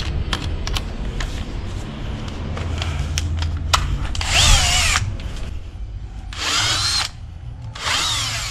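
Power drill fitted with a countersink bit boring into wood while building a small goose house, three sustained loud whirring bursts after a stretch of scattered clicks and handling knocks.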